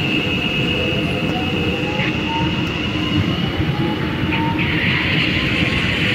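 Train interior in a video game, a loud continuous rumble of rolling wheels with a steady high whine and rising tonal hum, sustained throughout.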